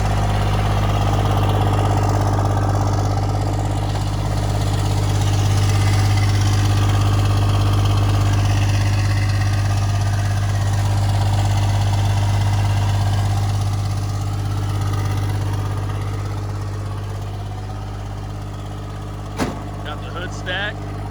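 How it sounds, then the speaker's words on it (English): A hood-stacked third-generation Cummins diesel truck engine runs steadily, a loud continuous low rumble at close range with a brief sharp knock near the end. "But as you guys can hear, Bailey has his 3rd gen running"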